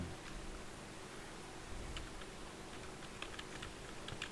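Quiet, rapid clicking of a computer keyboard being typed on during 3ds Max modelling work, with uneven bursts of keystrokes over a soft hiss and no talking.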